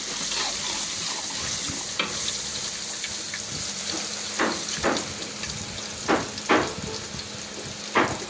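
Chicken jhal fry sizzling in a pan with spices, a loud continuous hiss of frying throughout, with several short scraping stirring strokes toward the end.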